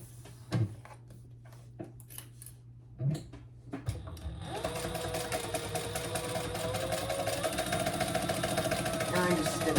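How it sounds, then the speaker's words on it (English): A sewing machine stitching all the way across a Federica bag, starting after a few clicks and handling noises and then running in a continuous fast mechanical whir, close by, with a voice speaking over the early part. "And I'm just stitching all the way across."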